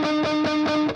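Electric guitar played through distortion, with the string above the fretted note brushed and muted by the fretting finger, giving a sustained buzzy overdriven tone that pulses in about five soft repeated swells, close and steady.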